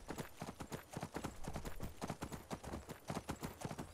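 Horse hooves clip-clop steadily in the video game Skyrim, a fast, even run of close, loud hoofbeats with no talk over them.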